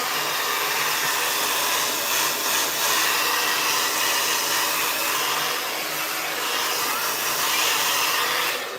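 A hair dryer blows hair dry at close range with a continuous loud whooshing roar that holds steady throughout, its airflow shifting slightly, with no talking.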